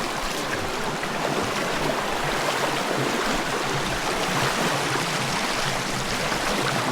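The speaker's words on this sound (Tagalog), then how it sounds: "Ito na yun, Tutuay Falls." Tutuay Falls pours in a dense, continuous rush of water, loud and close, a steady broadband roar with no breaks and no voices.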